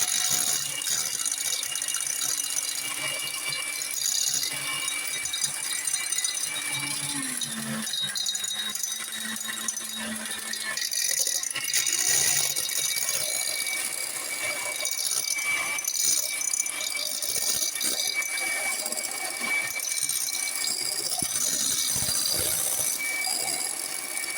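A handheld electric mixer whips instant coffee, sugar and water into a thick coffee cream, a steady close whirring buzz with rattling that runs continuously without pause.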